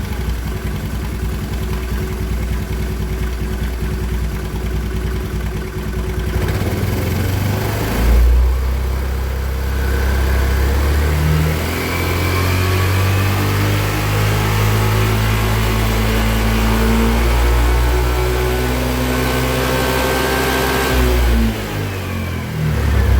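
An engine, likely a motorcycle's, cranks and starts, then runs loud and close, rising and falling through several revs before dropping back toward idle, with no talking.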